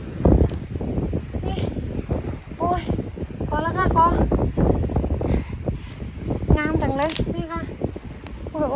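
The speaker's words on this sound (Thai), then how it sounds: "โอ้ยลม" Gusty wind buffets the microphone with low rumbling bursts while someone talks over it, outdoors by the sea while gathering wild sea vegetables.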